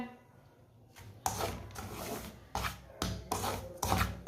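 A spoon scrapes roasted semolina out of a hot kadhai in repeated rough, rasping strokes, each a short burst separated by brief pauses, close and fairly loud with no talking.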